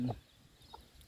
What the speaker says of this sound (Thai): ไก่ลายพี่น้อง